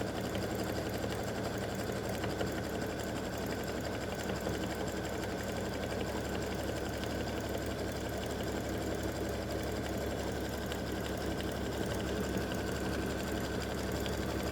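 A sewing machine stitches a zigzag tack-down on a fabric game board, its rapid, even mechanical chatter running steadily and close without any talk.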